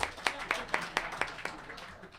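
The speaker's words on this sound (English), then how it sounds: "How about a hand for Dane?" A short burst of audience clapping for a cellist at a live performance, a few distinct claps repeating at a steady rhythm and fading out, with no talking over it.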